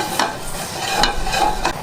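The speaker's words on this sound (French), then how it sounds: "Je vais alors y ajouter les 100 ml de fond de veau." Veal stock poured into a pan of red wine sauce that has been reducing almost dry over low heat, sizzling and bubbling up close with a few stirring scrapes.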